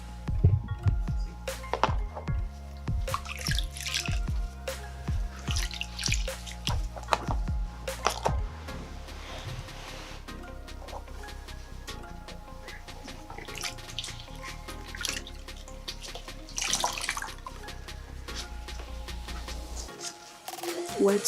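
Water splashes and trickles in a basin as a foot is placed in and washed during foot care, with irregular sloshing and drips at moderate level and some soft background voices.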